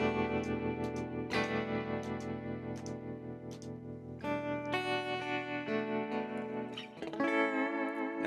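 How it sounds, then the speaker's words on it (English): Electric guitar run through the tremolo effect of an Axe-FX FM9 unit, sustained chords pulsing in rapid, even amplitude waves, with sharp picked attacks and shifting pitches, clean and close with no talking. "Go back to the original tremolo."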